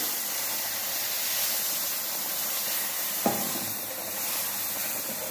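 Boiled milk poured slowly into roasted semolina for sweet sheera while it is stirred, giving a steady, close sizzling hiss throughout with one brief sharp knock of the spoon partway through.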